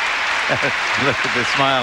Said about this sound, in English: a large applause for 13-year-old Tara Lipinski.